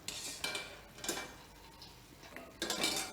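Fried mussel biscuits are dropped into syrup and mixed, giving bursts of clattering and scraping as a utensil knocks against a metal bowl, with quieter pauses between the clusters.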